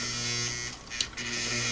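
A Singer Model 503A twin-needle sewing machine hums steadily while stitching through thick layers, with a brief dip and uneven strain in the motor midway.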